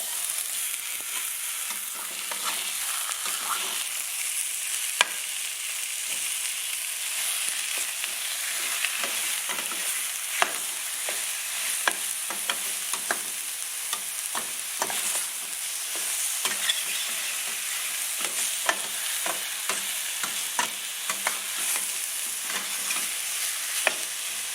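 Lean ground beef, a little over a pound, fries in a pan with steady crackling sizzle and frequent sharp ticks and pops throughout, close and moderately loud, with no talking.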